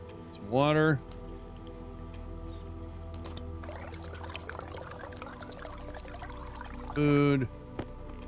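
Water pours in the video game Stationeers as a steady, gushing splash lasting a few seconds, framed by short rising electronic tones before and after.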